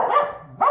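A dog lets out two quick barks close by, a sharp yap followed by a brief pause and another, with no voices in between.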